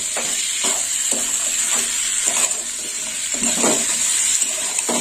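Chickpeas sautéing in a pan for a curry, with a steady frying sizzle and soft stirring scrapes, close and continuous, no voices.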